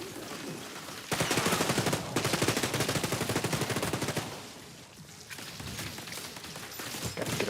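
Sustained automatic turret gunfire in the video game Gears of Destiny, rapid loud bursts firing almost nonstop, with short pauses between volleys and no talking over it.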